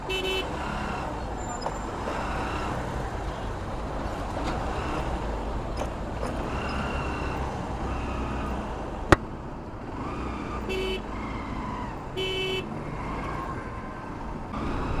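A motorcycle ride in traffic beside a massive truck, with a steady loud road and engine roar throughout and several short horn toots sounding at intervals, one sharp click near the middle.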